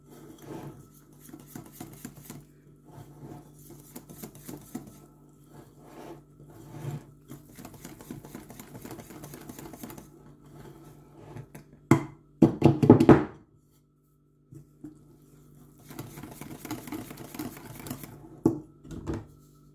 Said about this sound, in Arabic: ها هو خلطت الدقيق